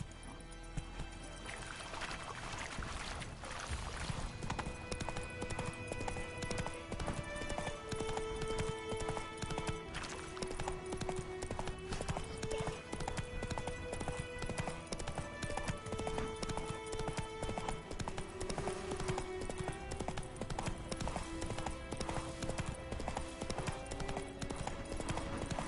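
Roach, a horse in a video game, trotting with a steady, even clip-clop of hooves that runs on for a long stretch over a game music bed, with a brief spoken line near the start.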